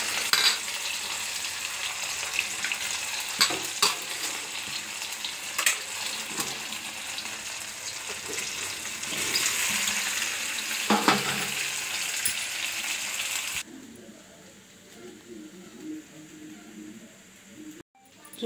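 Pakoras frying in hot oil with a loud, dense crackling sizzle and a few sharp clacks, close up; near the end the frying gives way to a quieter, duller background with faint sounds.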